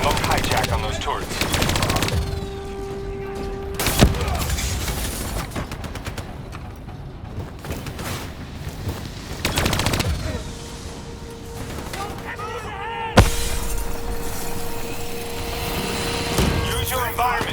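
Gunfire in the Call of Duty: Black Ops III campaign, with bursts of automatic weapon fire and sharp shots over a continuous battle din, punctuated by a couple of heavy impacts.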